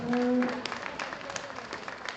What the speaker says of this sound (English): But another round of applause for our clover buds.